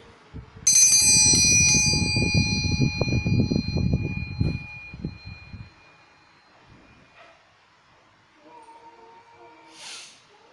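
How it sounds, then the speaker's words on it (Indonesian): A bell rings out with a bright, sustained metallic tone, its clear overtones ringing for several seconds while shuffling noises fade beneath, then quiet follows. "ditandai dengan lonceng berbunyi"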